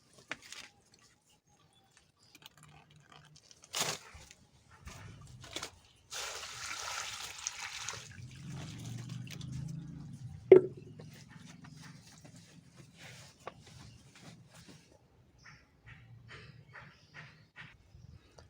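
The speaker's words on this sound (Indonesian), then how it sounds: "Kita siram kawan dengan air putih seperti ini," Buckets of plain water poured over a Kesuma Merah rose apple tree that has been pruned. Scattered splashes and drips come first, then a sustained pour and trickle, and then quieter dribbling and patter.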